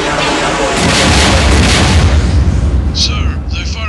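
Cannon fire in a Lego Star Wars space battle between a Separatist ship and a Republic Venator, a loud continuous barrage of booming blasts with whooshing bursts near the end.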